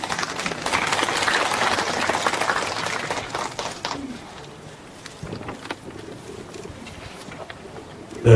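An audience at a literary award ceremony applauds, a dense, even round of clapping for about four seconds that then drops to quiet room noise with light movement.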